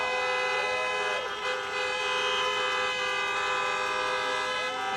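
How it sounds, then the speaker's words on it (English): Car horns toot and honk repeatedly in long sustained blasts at an outdoor drive-in campaign rally in Georgia, overlapping in a dense continuous wash of sound. "honk for your next United States Senators, Jon Ossoff and Reverend Raphael Warnock."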